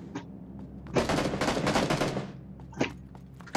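Bursts of automatic gunfire in a battle royale video game, a dense volley of rapid shots from about one to two and a half seconds with a few isolated single shots before and after, fairly loud.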